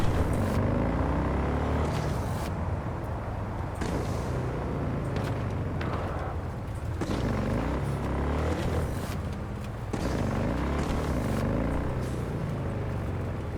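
A car driven in the video game Cyberpunk 2077 rumbles steadily and loudly throughout, with continuous engine and road noise and a few bumps along the way.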